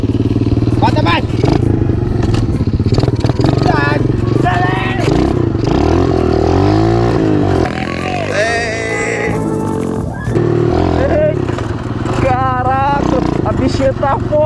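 A motorcycle engine revs hard in repeated bursts close by, loud and rising, while several people talk and shout excitedly over it.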